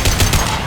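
Gunfire from the video game Mass Effect 2, a quick burst of repeated close shots with a dense, noisy rattle across the brief moment, no voices.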